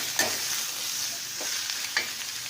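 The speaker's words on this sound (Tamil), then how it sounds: "நல்லா கோல்டன் ப்ரௌன் வர வரைக்கும் வணக்கணும்." Red chilli oil sizzles loudly in a pan while ingredients are fried and stirred until golden brown for a fish gravy, with a steady hiss broken by occasional scraping strokes of the spoon.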